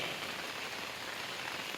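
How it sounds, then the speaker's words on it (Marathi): Steady, dense rain pours down, a continuous hiss of drops hitting surfaces throughout with no voices. "बघा किती पाऊस पडतोय"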